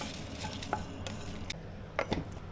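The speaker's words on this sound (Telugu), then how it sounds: "వీటిని కొద్దిగా ఫ్రై చేయాలండి." Fenugreek seeds and dried red chillies fry in a pan over a medium-to-low flame, giving a soft, steady sizzle broken by a few light spoon scrapes and taps as they are stirred, with no talking.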